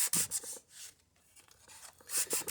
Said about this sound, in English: put the sandpaper directly on the mast and then sand in the direction that the fit is going to be